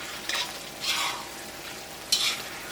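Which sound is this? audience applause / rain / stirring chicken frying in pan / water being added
stirring chicken frying in pan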